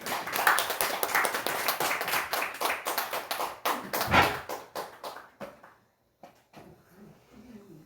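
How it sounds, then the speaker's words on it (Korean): Church congregation at a Sunday worship service clapping in unison, a brisk, fairly loud run of sharp claps that thins out and stops, followed by a few faint, scattered sounds. "여러분 나오실 때 박수로 맞아주시기 바랍니다."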